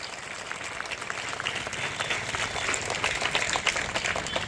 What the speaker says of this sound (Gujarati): તો બધાના માટે એકવાર જોરદાર તાળીઓનો ગડગડાટ થઈ જાય.